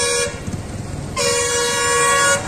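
Two long, loud car horn blasts sound close by, the first ending after about a quarter second and the second holding steady for over a second, with traffic noise between them.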